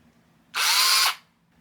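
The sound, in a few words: power tool drilling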